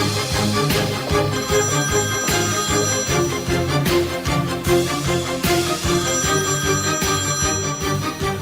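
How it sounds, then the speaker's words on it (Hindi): A phone rings with a repeating melodic ringtone that plays steadily under a full, loud musical score in a dramatic television scene, with no one speaking. "तुम फोन नहीं उठाओगे?"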